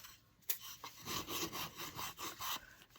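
Light rubbing and scraping along the edges of a small painted scrap-wood block, likely with sandpaper, to distress it; close, soft and uneven strokes repeat in quick bursts with no talking.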